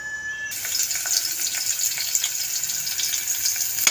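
Chicken sautéing in a pan for tinolang manok sizzles steadily after a sudden start, a close, loud crackle with small pops scattered through it and no voices.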